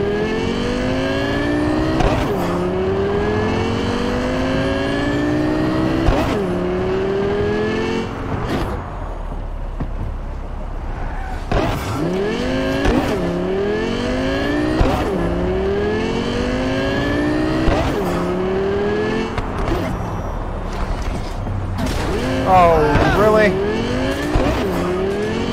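Car engine revving in the video game Cyberpunk 2077, loud and close, with repeated rising gear sweeps, abrupt shifts and bursts of tire squeal across about twenty-five seconds of hard driving.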